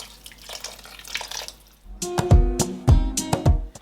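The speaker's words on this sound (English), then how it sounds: "I'm going to add a little bit more water." Water is poured into a pot of Nigerian chicken stew with fried chicken, starting after a quieter stretch. It comes as a few loud, splashy gushes and glugs, close by, with no talking.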